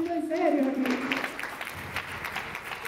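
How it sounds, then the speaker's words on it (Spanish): Audience applause at a talk about climbing Mount Everest. Dense, steady clapping follows a brief voice and carries on to the end. "¡Hey! Un aplauso que se está poniendo en serio aquí."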